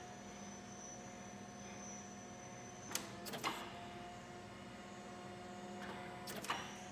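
An electric forklift (Lift Hero CPD25, 8,000 lb) works its fork positioner from the right outside lever, giving a steady faint electric whine and hum with two brief clunking bursts partway through.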